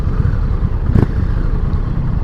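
A steady low Indian Challenger motorcycle exhaust rumble, close and continuous, with a brief louder swell in the middle.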